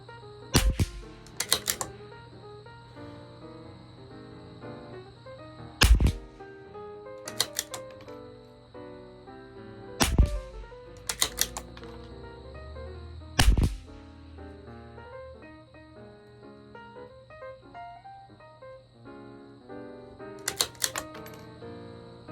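A CZ 457 LRP rifle firing sighter shots at an outdoor range: sharp, loud cracks, some singly and some in quick pairs, separated by several seconds of quiet with a faint steady background hum.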